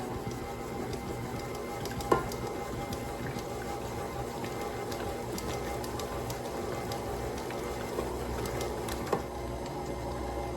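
A stand mixer beating pound cake batter with eggs, a continuous close whirring drone with faint rhythmic churning and a couple of sharp clicks, running alone without talk.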